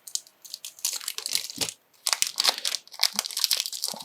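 Plastic packaging around a fly tying bobbin is cut and torn open, with close, loud crinkling and crunching in several bursts broken by brief pauses.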